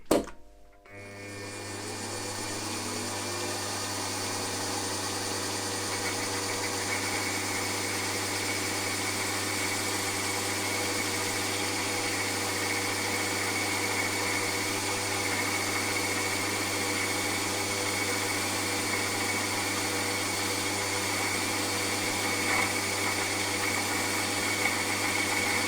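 A lathe makes the final cut on a V-twin model engine crankcase, a steady droning hum with a constant low tone and faint cutting hiss running continuously after a brief start-up.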